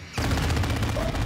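Rapid sustained gunfire from a chopper gunner helicopter in a video game, a dense loud burst of shots starting abruptly and continuing without pause.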